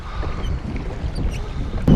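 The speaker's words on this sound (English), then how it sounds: "Super windy out today." Strong wind gusts across a lake while fishing on a cold July day in Minnesota, a rough buffeting rush with choppy water sounds and a sharp thump at the very end, brief and with no one talking.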